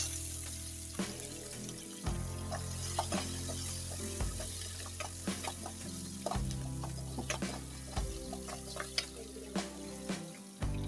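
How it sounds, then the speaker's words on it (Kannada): Cumin, mustard seeds, curry leaves and onion frying in oil in a pan, with steady sizzling, scattered crackles and repeated stirring scrapes, close and fairly loud, no talking. "ಸ್ವಲ್ಪ ಜೀರಿಗೆ ಹಾಕಿ ಸ್ವಲ್ಪ ಸಾಸುವೆ ಕರಿಬೇವು ಒಂದು ಈರುಳ್ಳಿ"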